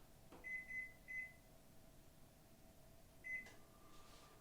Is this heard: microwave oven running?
yes